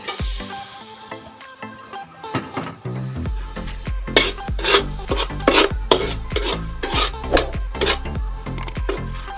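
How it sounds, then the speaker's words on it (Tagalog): Sugar is stirred into hot oil in a pan for a glutinous rice snack, with a steady run of loud, rhythmic scraping strokes of a utensil against the pan and a faint sizzle underneath. "Ilalagay ko na yung asukal. Ayan. Lagay na natin dito sa mantika."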